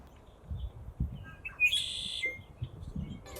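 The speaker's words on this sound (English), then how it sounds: "those are the red-winged blackbirds" Red-winged blackbirds sing in a park, one clear trilling whistled call rising out of a low, steady outdoor hum, with scattered softer chirps around it.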